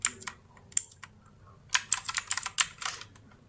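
Computer keyboard typing, a cluster of crisp key clicks followed after a pause by a faster burst of keystrokes, close and clear with no talk.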